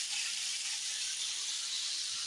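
Chicken sizzles on a braai grill outdoors by a river in Botswana, a steady, soft, hissing crackle that runs continuously with no talking over it.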